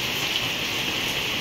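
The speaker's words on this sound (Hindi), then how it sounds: "आज बहुत तेज़ बारिश हो रही है।" Heavy rain pours down steadily, a dense, unbroken hiss that stays loud throughout with no pauses and no talk.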